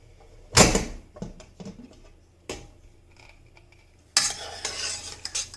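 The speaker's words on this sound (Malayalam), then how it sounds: "ഇനി നമുക്ക് കുക്കർ തുറക്കാം" A loud metallic clank and rattle as a cooker lid is handled, followed by quieter clinks, then a burst of hissing and clattering near the end.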